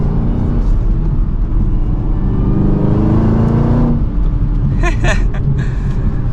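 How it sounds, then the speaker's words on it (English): A supercharged V8 in a 2023 Chevrolet Camaro ZL1 pulls hard from first gear, with a loud, steady engine roar building from inside the cabin and a shift break near the end, while a voice talks over it. "let's give it another acceleration here from first gear"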